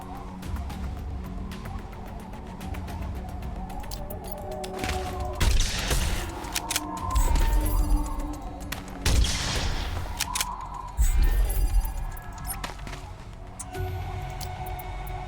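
Shotgun blasts and other gunfire in the tactical game Reverse Collapse: Code Name Bakery, a string of loud booming shots with scattered lighter weapons fire between them over continuous battle noise.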